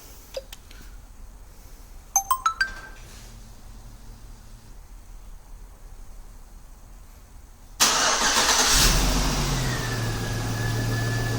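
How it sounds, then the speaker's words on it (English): A 2003–2006 or 2007 Classic Chevrolet, GMC or Cadillac truck starts by remote start. A few sharp relay clicks and quiet ticking come first, then the starter cranks and the engine catches loudly. It settles into a steady, even idle. "We're going to start the vehicle."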